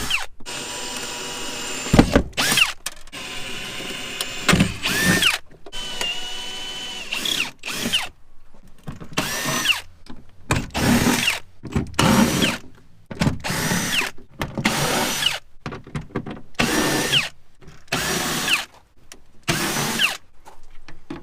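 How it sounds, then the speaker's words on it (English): A power drill bores out stuck window regulator screws inside a Ford Fusion door, running in loud repeated bursts of whirring with short pauses and ratcheting clicks between them. "best thing I can do right now is just drill these out"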